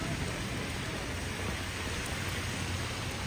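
Heavy rain pouring down in Balneário Camboriú, Santa Catarina, Brazil, a dense, even hiss of downpour filling the whole stretch without a break or any voices.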